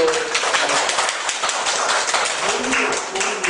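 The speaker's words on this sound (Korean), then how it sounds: "오늘 새로 오시는 분이 있어 잠깐 박수로 환영을 하려고 하는데요" A church congregation applauds to welcome a newcomer, a dense, steady burst of many hands clapping together, close and lively, with no talk over it.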